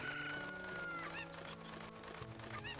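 Chickens cluck and a rooster crows in the Zelda 64DD video game, with sharp clucks and a crow rising over a steady background of game music.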